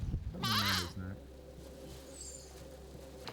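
Goat bleating on the Caribbean island of Saba, a single wavering, nasal bleat up close, followed by quiet outdoor ambience with a faint distant chirp.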